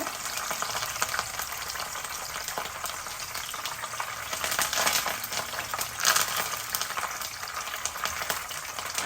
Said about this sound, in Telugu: కరివేపాకు కదా మరి ఆ మాత్రం అరవదా